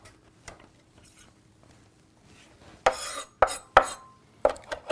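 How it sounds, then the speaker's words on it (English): A knife chopping tarragon on a board: after a quiet start, a handful of sharp, close knocks arrive in an irregular burst, each crisp and distinct, with no speech over them. "We'll give it a little chop."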